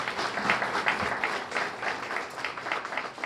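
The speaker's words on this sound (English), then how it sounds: "Let's have a nice round of applause for them." Applause for students at a Student of the Month school assembly, heard as a steady round of clapping from a mid-sized audience. It is moderately loud and fairly even, with no talking over it.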